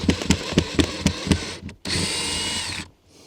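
A power drill backs self-tapping screws out of the corners of a Winnebago Revel van window blind: a run of short, close whirring pulses, then one longer steady spin before it cuts off.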